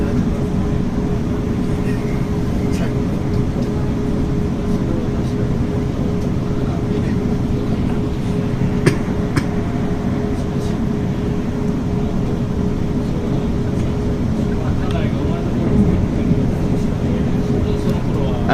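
A South Western Railway train rumbles steadily along the rails between London Waterloo and Portsmouth Harbour, a low continuous roar with faint clicks and a tonal hum throughout.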